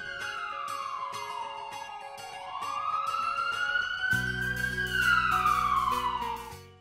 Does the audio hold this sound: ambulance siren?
yes